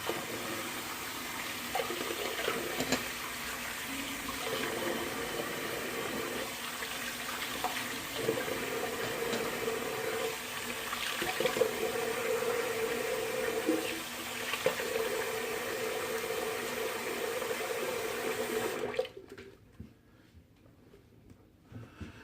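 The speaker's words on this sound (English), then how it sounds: "All right, cold water rinse time." A bathroom tap runs steadily for a cold water face rinse, a close continuous splashing stream lasting about nineteen seconds before it is shut off and the room goes nearly silent.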